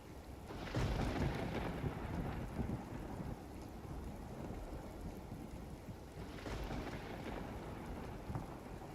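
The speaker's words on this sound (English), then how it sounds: "You tone down the thunderstorm" A thunderstorm with rumbling thunder over steady rain and gusting wind, two heavier swells of rumble rising above a continuous wash of noise.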